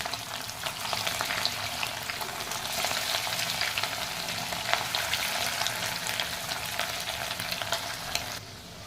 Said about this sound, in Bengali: বড়াগুলো 1 পিঠ ভাজা হয়ে গেছে